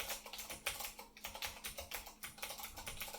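Steady, brisk typing on a Monterey K101 keyboard fitted with blue Alps switches, a dense run of crisp, clicky keystrokes heard close up and alone.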